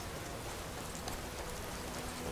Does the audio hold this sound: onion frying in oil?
no